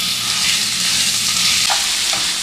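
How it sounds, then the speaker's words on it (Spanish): Ground beef fries loudly in a hot pan with oil, a dense continuous sizzle close to the microphone, with a couple of soft scrapes as the meat is stirred. "Vamos a darle una meneadita para que la carne se vaya sellando"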